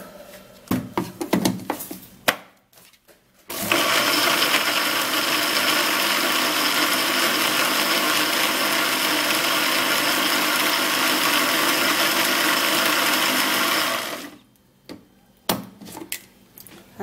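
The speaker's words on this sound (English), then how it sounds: "So we're equally going to be blending the apple." A blender whirs steadily for about ten seconds, blending apple with water, loud and constant after a few scattered knocks, then cuts off into more light clatter.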